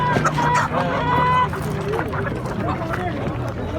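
Chickens and roosters cluck and crow amid the busy hubbub of the Kırıkkale poultry market, with people talking close by over the steady bird calls.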